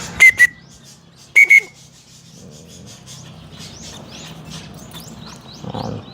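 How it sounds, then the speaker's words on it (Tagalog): Two pairs of short, high whistle blasts ring out near and loud to call crows before feeding, followed by soft rustling, faint distant calls and a low scraping rumble. "So, pipito tayo na ganyan bago tayo papakain."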